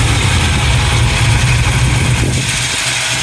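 The 5.3 liter Chevy V8 of a Bizzarrini 5300 GT Strada runs at a loud, steady idle, a deep rumbling burble close by, continuing alone for the whole stretch.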